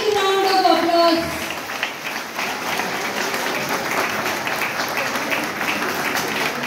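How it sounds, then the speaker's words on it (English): An audience at a school felicitation ceremony applauds a student honored for top exam marks. A voice on the PA trails off at the start, then loud, dense clapping fills the rest. "Please give him a big round of applause."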